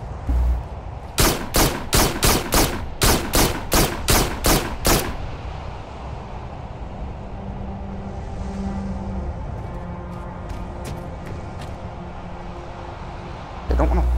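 Rapid bursts of gunfire from shooting targets in the VR game Farpoint, a loud, evenly spaced volley of about ten shots followed by a long stretch of low ambient game noise and a final thump.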